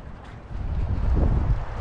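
Gusty wind buffets the microphone beside muddy water along a park boardwalk, a steady low rumble that swells louder after the first half second and stays strong, with no voices.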